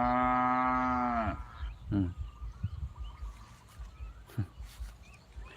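Cattle moo in long, loud calls, one near bellow followed by shorter lowing as cows call to each other across a rural Thai field where cows are tied; someone talks over the later calls.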